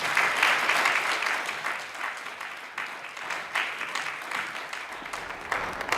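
An audience at the Virginia Festival of the Book applauds to welcome Dr. Otis Brawley, with dense, sustained clapping from many hands that continues for several seconds.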